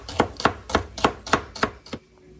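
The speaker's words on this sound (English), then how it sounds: "And slice the celery into a very thin size." Celery sliced thinly with a knife on a cutting board makes seven evenly spaced, crisp chopping thuds close up, then stops.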